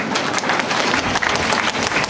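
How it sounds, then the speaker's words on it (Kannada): Applause from an audience at the inauguration of a renovated Muliya Gold and Diamonds jewellery showroom in Puttur, a dense, loud burst of many hands clapping steadily throughout. "ಇನ್ನಷ್ಟು ಜೋರಾದ ಚಪ್ಪಾಳೆಯೊಂದಿಗೆ"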